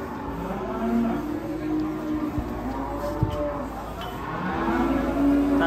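An angry, agitated cow on a rope bellows in long, low, strained moos over outdoor background noise and scattered thumps, moderately close.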